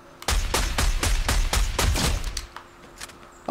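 An automatic sniper rifle fires in Fortnite in a fast, steady string of about eight loud, booming shots, then stops, leaving a few faint game sounds and a sharp click at the end.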